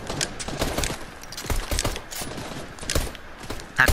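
Heavy sniper rifle shots fire in the Fortnite video game: several sharp, loud cracks scattered irregularly amid busy game noise, without speech.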